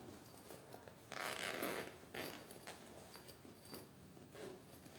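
Zipper sliders run along a fabric pencil case, giving short raspy bursts: one long pull, then several quicker, fainter zips, close and quiet with no talking.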